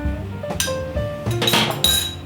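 Cabbage, beetroot and apple salad tossed in a bowl, giving a few close clinks and scrapes of a utensil against the dish at irregular moments with no talk.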